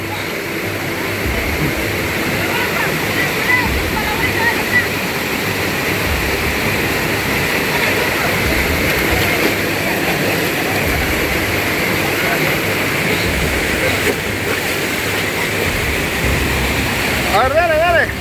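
A waterfall in San Isidro, Macas, Ecuador roars as a steady, loud wash of rushing water that fills the whole stretch without pause.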